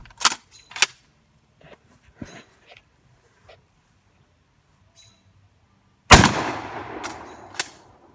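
A 1960 Ithaca shotgun fired outdoors, one loud close blast with a decaying echo, preceded by faint clicks and handling sounds.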